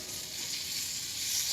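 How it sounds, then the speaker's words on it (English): Steady, soft hissing sizzle of meat frying in hot oil, a continuous crackle that swells slightly toward the end. "Then just put the meat in, wait for the sizzle"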